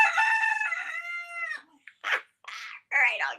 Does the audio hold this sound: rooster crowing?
yes